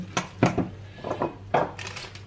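A utensil stirs breakfast food in a pan, giving a few irregular, quiet clinks and scrapes of metal against the cookware, close by with no talking.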